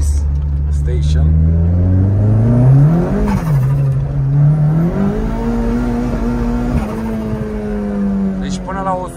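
A 1986 car revs and accelerates hard through the gears, its loud engine note climbing in pitch, dipping at each shift, then rising again.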